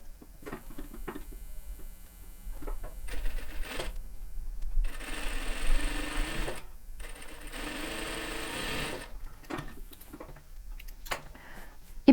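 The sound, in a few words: sewing machine stitching a diagonal patchwork seam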